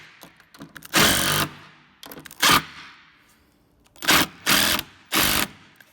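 A power driver sends screws home into a wooden skate ledge in several loud, close whirring bursts of uneven length, with small clicks and handling noise between them and no talking.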